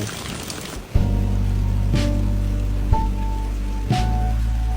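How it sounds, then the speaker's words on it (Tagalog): Heavy rain pours steadily in a dense, loud wash, with a low constant rumble and several sharp knocks breaking through at roughly one-second intervals. "Grabe, ang lakas ng ulan."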